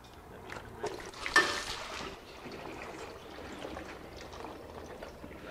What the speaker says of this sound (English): hopefully we get a lot of fluid out